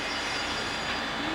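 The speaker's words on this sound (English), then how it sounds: "I hear the engine, Mackie. Here it comes." A steady, continuous rumbling hum with faint squealing, like a toy train running close by, with no talking.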